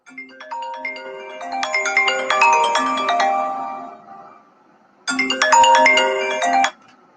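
A WhatsApp incoming-call ringtone chimes in two loud bursts of repeating melodic tones, the first lasting about four seconds, then a short gap and a second burst of about a second and a half, with no talking over it.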